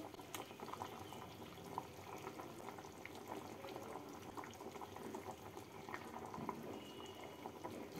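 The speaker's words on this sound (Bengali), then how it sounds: "ঝোলটা ভালোভাবে ফুটে উঠেছে।" Curry broth for a hilsa and pumpkin dish bubbles at a rolling boil in a pot, a faint, steady burble of popping bubbles that runs alone throughout.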